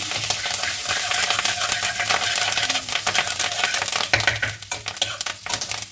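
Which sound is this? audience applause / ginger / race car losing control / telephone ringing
ginger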